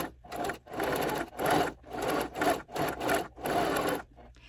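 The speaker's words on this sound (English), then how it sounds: "when I'm sewing, I am giving just a little bit of pressure on the sides just to make sure it doesn't bunch up" Sewing machine stitching batting for a fabric bowl cozy, running in five or six close bursts of rapid mechanical whirring separated by short pauses, with no talk.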